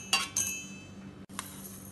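Roasted peanuts, coconut and sesame seeds tumble into a mixer jar in a few quick bright clinks and rattles, close and fairly faint, with a brief pause between pours.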